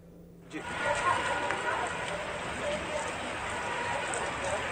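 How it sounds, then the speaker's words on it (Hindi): Heavy rain in Chhindwara, Madhya Pradesh comes through a phone line as a steady, thin, band-limited hiss that starts abruptly and holds evenly throughout, with no voice over it. "काफी तेज बारिश यहाँ पर हो रही है"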